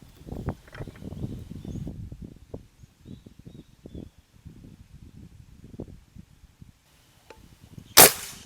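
A PCP air rifle fires a single sharp shot near the end, preceded by quiet rustling and handling sounds outdoors.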